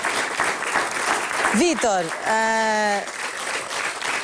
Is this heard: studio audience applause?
yes